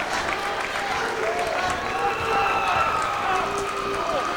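Crowd at the 1994 IHSA boys volleyball championship between Oak Lawn and Downers Grove North, cheering and clapping steadily in a gym with whistles and shouts, loud and sustained under a voice talking.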